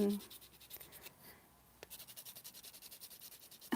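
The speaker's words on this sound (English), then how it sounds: "I'm just sanding one of those" Quiet, rhythmic scraping strokes of a pastel stick being sanded against an abrasive surface, with a short pause partway through.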